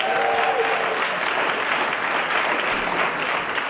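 A crowd applauds steadily at the Boston Cultural Council 2019 grantee reception, a dense, even wash of clapping that holds loud and unbroken from start to finish with no speech over it.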